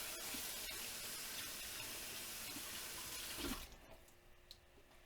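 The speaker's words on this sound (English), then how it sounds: "Rinse them off real quick." Tap water runs steadily into a kitchen sink while vegetables are rinsed, then the flow cuts off and a few faint handling sounds follow.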